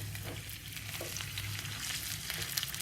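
Ginger garlic paste fries in a karahi over medium heat, a steady close sizzle with faint stirring scrapes throughout.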